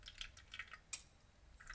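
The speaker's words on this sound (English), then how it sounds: "Strain the grated coconut from the excess marinade liquid." Marinade liquid drips from strained grated coconut in a few soft, irregular drops, with one sharper splash near the middle, quiet and close.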